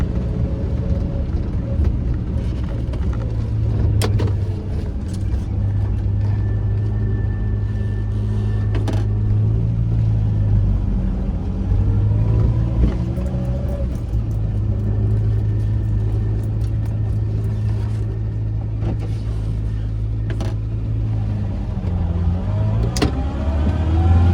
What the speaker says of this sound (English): Rear leaf spring suspension working hard on these bumps.